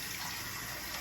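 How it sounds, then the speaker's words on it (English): Hot water poured into a cup while making chicken and dumplings from scratch, a steady broadband splashing gush lasting about a second, close and fairly quiet, with no talk over it. "we're gonna put this 1 cup hot water in here."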